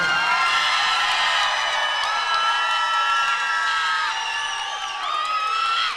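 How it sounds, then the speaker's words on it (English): A fight crowd at an Elevate Fighting Championship event cheers, whoops and yells together in a sustained, lively roar of many voices. "A round of applause."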